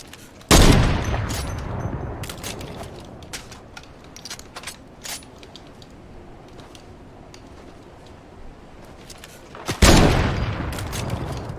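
Gunfire in a Fortnite match: two loud, sharp blasts stand out near the start and end, with scattered quieter shots and clicks crackling in between.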